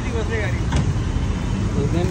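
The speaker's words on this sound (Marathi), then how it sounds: "निघली गाडी एकदम." A car pulls away during the Ashadhi Ekadashi pilgrimage crowds at Pandharpur, giving a steady close engine and road rumble throughout, with murmuring voices inside the vehicle.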